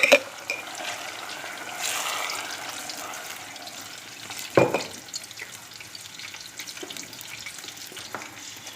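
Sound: tomato sauce added to sautéed pepper paste, frying

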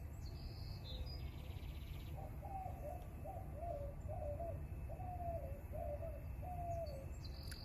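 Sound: doves cooing outdoors

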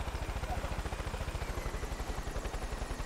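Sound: enemy helicopter flying, from video game Far Cry 5

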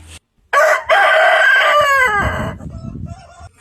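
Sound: rooster crowing

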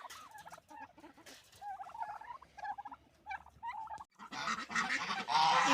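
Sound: turkeys and geese calling

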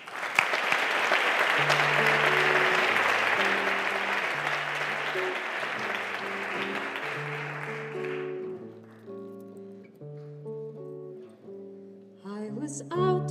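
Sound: applause

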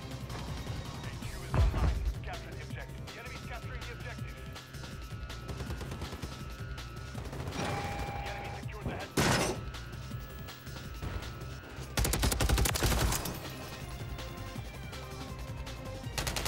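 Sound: gunfire in Call of Duty MW3 video game

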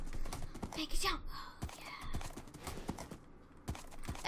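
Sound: horse galloping in Minecraft video game horse race

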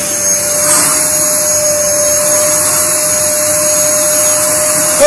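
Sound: electric vacuum cleaner running, sucking up hair

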